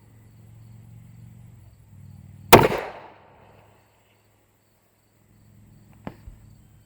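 A Taurus 80 pistol fired in single action gives one sharp, loud report, then a second smaller crack a few seconds later, over quiet low background hum.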